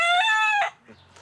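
A rooster crows loudly and close by on a farm, one long harmonic call lasting over half a second and followed by a few softer clucks from the flock.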